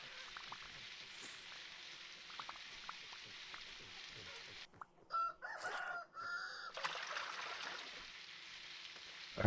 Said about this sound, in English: I heard the rooster crow